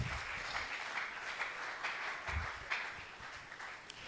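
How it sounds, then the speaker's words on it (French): A congregation applauds and cheers for the glory of God during a French-language deliverance service, a steady faint wash of clapping heard from a distance with no speech over it. "est-ce qu'on peut un peu acclamer pour la gloire de Dieu?"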